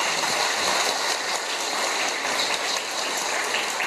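Steady applause from a crowd gathered at a Sewol ferry memorial march press conference, a dense wash of clapping with no break that stays even and moderately loud throughout.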